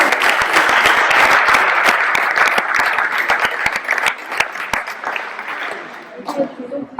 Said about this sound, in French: bon, je crois qu'on peut applaudir